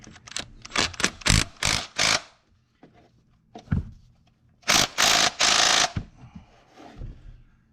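Wrench work loosening the T30 head bolts on a Ford 6.0 Powerstroke diesel, a series of sharp ratcheting bursts in close clusters, some short and clicky, others longer whirring runs, with quiet gaps between.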